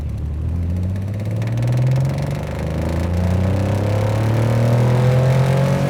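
A 1979 Porsche 911 SC engine revs hard under acceleration, its note climbing steadily in pitch through the gear, loud and close, with no voices over it.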